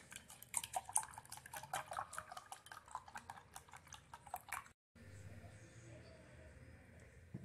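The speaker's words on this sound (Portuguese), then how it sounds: "Vou misturar bem, viu, gente?" Ingredients being mixed in a bowl with a utensil, giving quiet, irregular clinks and scrapes for several seconds, then a brief gap and softer handling noise.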